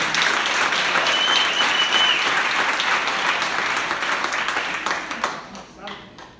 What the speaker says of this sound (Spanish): eso de verdad merece un aplauso